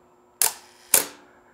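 Two sharp mechanical clicks about half a second apart from a Minolta SR-T film camera shutter fired at a half-second speed, the shutter opening then closing, close and clear in a quiet room.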